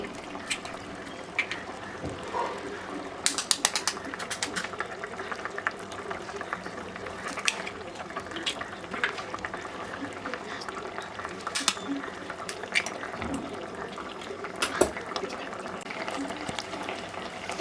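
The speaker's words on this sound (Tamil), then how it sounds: "ஃபைனலாக முட்டையை ஆட் பண்ணிவிட்டு ஒரு பத்து நிமிஷம் மட்டும் கொதிக்க விட்டுட்டு அதுக்கப்புறம் ஆஃப் பண்ணணும்" Egg curry gravy with cracked-in eggs simmers in a pot, a steady low bubbling and gurgling hiss throughout, with occasional sharper clinks and pops, close and fairly quiet.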